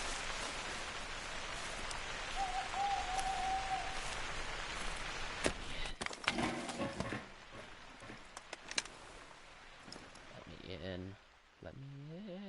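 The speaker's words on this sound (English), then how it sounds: "Of course, it's going to start the rain, because this game is extremely loud and I hate it." Steady rain hiss from the video game theHunter: Call of the Wild fills the first half loudly and evenly, then thins out and gives way to scattered clicks and other game sounds.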